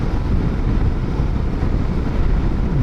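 Steady, heavy crosswind noise buffeting the microphone on a road trip from Korosten toward Hrubieszów, a continuous low roar with no pauses or voices.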